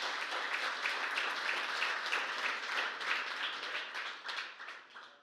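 A church congregation applauds during a sermon, steady fairly quiet clapping from a crowd filling the whole stretch without pause.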